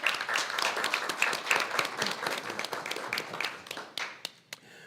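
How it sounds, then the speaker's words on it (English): An audience at a school board of education meeting gives a round of applause, dense clapping that runs steadily for several seconds before thinning out into a few last scattered claps. "Maybe we can give Heather another round of applause."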